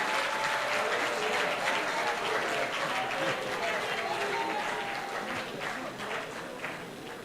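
Audience applause fills a tribute event for a late chief, a steady dense crowd clapping throughout that eases off slightly toward the end.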